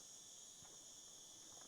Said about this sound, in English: Oh, you can hear that cricket there.